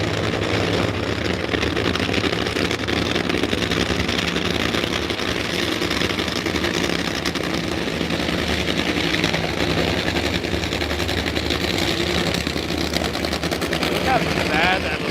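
Top Fuel dragster engines rumble and crackle at a drag racing event, a dense, loud, continuous roar filling the scene throughout, with no speech over it.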